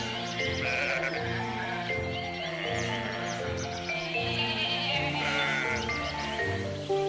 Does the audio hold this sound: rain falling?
no